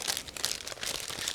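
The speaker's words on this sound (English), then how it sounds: "so it's a resealable plastic bag, and I will show it in a second because it's easy and quick to open." A resealable plastic bag holding plastic model kit sprues being opened, giving close, bright crinkling and rustling in several bursts, with no talk.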